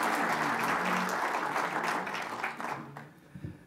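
Audience applause welcomes a speaker at an evening Civil War history talk: dense, sustained clapping from a full room that tapers off and fades out near the end.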